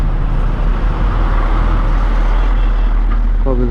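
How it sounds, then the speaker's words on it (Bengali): A truck roars past on a highway while riding a Hornet 160R motorcycle, a loud heavy engine and road rumble that swells, with a brief horn-like tone near the end. "উফ, ট্রাক"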